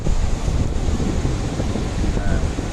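Loud, constant storm wind roars and buffets the microphone while sea surf churns underneath at a beach in Rizal, Palawan, a rough, unbroken wash of noise throughout.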